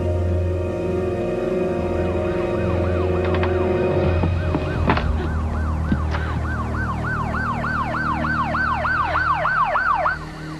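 A police siren wails in a mid-1990s TV movie, rising out of a low engine drone and then cycling fast and loud in a steady yelp before cutting off near the end.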